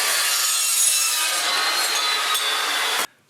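A power saw cuts steadily through material with a loud, continuous high-pitched whine and grinding rasp for about three seconds, then stops abruptly.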